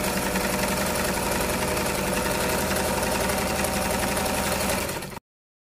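A sewing machine stitches a frock lining, running as a loud, continuous close-up motor whir with a rapid needle rattle for about five seconds before cutting off abruptly.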